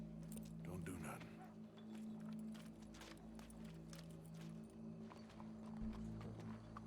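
Horse hooves clip-clopping in the video game Red Dead Redemption 2, a steady walking rhythm under continuous game sounds and people talking.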